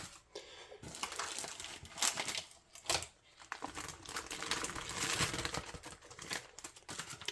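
Plastic packages of little smokies cocktail sausages are torn open and emptied for a Christmas appetizer, giving close, steady crinkling and rustling with a few sharper crackles and no talking.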